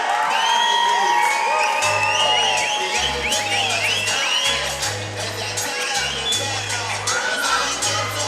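A loud crowd at the BDBK 2 Banuelos vs Mendez fight cheers, whoops and shouts without letup, with clapping mixed in and a pulsing bass beat underneath.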